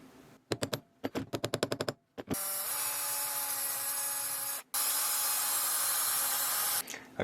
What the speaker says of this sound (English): This stuff is just really hard to drill, and very hard to drill straight.